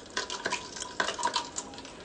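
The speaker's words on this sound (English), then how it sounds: "Just give it a little stir." A Frangelico cocktail with lime juice and 7-Up stirred in a glass, with light clinking and swirling liquid over a few seconds, close and fairly quiet.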